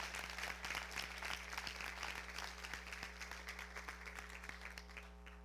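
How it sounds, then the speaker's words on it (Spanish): A church congregation applauding together, with dense, sustained clapping that fills the room from start to finish, heard against a steady electrical hum. "Dele palmas al Señor."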